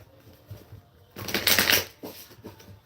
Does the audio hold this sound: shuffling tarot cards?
yes